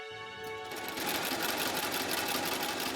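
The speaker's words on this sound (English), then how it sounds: "first a strip of leather is sewn around the bottom of the insole, an old-world process called welting" A sewing machine stitching a leather welt strip around the bottom of a shoe insole in an Italian handmade shoe workshop, starting with a rising whine and settling into a steady fast mechanical buzz.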